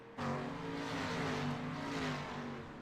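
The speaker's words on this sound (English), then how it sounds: "pavement sprint car driver Jeff Bergner has that loud pedal to the floor" A pavement sprint car engine at full throttle gives a continuous loud, raspy roar with a slightly shifting pitch, heard on its own throughout.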